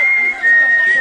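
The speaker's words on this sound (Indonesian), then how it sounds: "bersiul-siul" A person whistles a steady, sustained single tone with a brief dip midway, loud and close, carrying a thin breathy edge.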